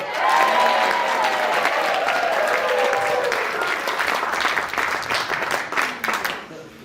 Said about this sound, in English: one huge round of applause for Lucille Ball